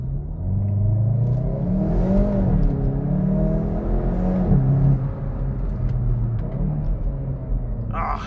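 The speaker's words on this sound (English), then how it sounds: "the gearbox is an 8-speed dual clutch, so the gears are very snappy, but it's also very punchy," A 2022 Hyundai i30N facelift, 206 kW with an 8-speed dual-clutch gearbox, accelerating hard from inside the cabin: a deep, rising engine drone with quick upshifts dropping the pitch, then easing off toward the end.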